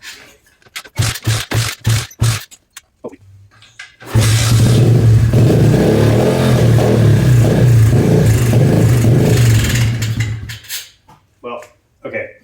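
Pit bike engine with a freshly cleaned carburetor and new valves, first sputtering through a series of short failed start attempts, then catching and running loudly and steadily for about six seconds before dying back to intermittent pops.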